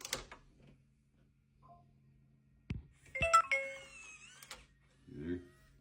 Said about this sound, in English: lock it and unlock it with my Apple Watch